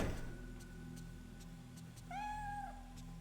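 A single drawn-out cat meow rises and falls near the end in the video game Fatal Frame III, over a quiet humming ambience with faint periodic ticks and no talking.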